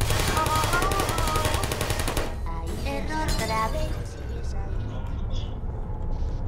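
Gunfire in the video game Portal, rapid automatic bursts rattling loudly for a couple of seconds, then scattered shots and a shattering clatter that fade into quieter game noise.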